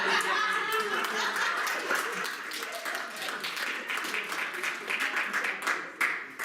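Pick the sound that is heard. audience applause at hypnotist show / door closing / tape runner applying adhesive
audience applause at hypnotist show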